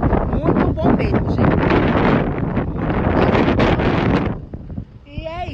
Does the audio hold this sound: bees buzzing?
no